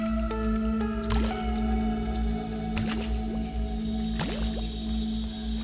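Water glugs and bubbles as a canteen is filled in the video game Grounded, with repeated watery gurgles and rising splashy chirps over a steady hum and game ambience.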